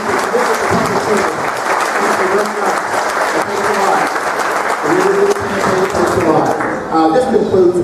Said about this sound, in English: So we can give them a round of applause for the dedication to the public service.